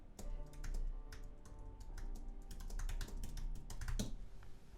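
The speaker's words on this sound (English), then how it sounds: "I'm typing to all of my members here." Steady typing on a computer keyboard, quick irregular key clicks running continuously at moderate level over a low background hum, with no voices.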